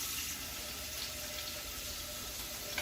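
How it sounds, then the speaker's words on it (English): Tap water runs steadily into a saucepan, filling it about three-quarters full for cooking spaghetti noodles in a home kitchen; a continuous, close rushing hiss with no talk. "I fill up a saucepan pretty full of water, like 3/4 full of water."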